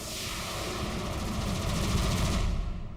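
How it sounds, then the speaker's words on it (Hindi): Dense, loud gunfire crackles continuously throughout, a steady barrage of rapid shots in a scene from the Indian TV comedy Taarak Mehta Ka Ooltah Chashmah. "थोड़ी वहाँ पे गोलियां चल रही है, पटाखे नहीं"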